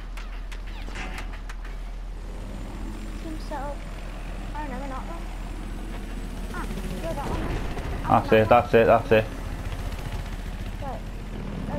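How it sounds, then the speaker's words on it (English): A helicopter in the video game Battlefield 4 drones steadily throughout, joined by a loud rattling burst of gunfire near the end, while players talk over it. "Oh, so you're on chopper. I'm in chopper now."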